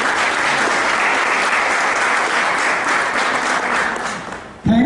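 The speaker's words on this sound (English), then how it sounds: "So once a big round of applause to all the parents," A crowd gives parents a big, sustained round of applause at a school youth parliament event, with dense, loud clapping throughout that fades slightly before a sudden loud burst at the very end.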